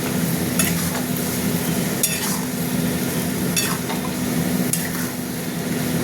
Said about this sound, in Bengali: এবার মশলাটা এখন কষা হবে।